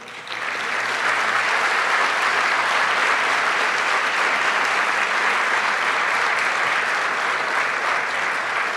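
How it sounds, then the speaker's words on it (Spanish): A crowd at a Mexican state legislative session breaks into loud, dense applause that swells within the first second and then holds at a steady, even roar of clapping to the end. "Un fuerte aplauso a la distancia."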